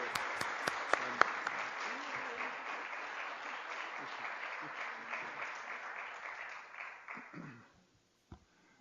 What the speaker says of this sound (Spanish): espero que el aplauso no les haga olvidar todo lo que dijo Gonzalo